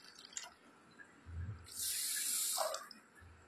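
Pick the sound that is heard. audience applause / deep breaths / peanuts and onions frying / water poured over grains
water poured over grains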